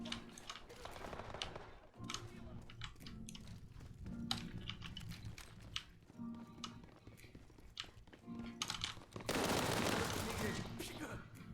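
An online shooter video game fills the room with rapid bursts of gunfire and clattering action sounds, with a louder, denser barrage near the end and someone talking intermittently.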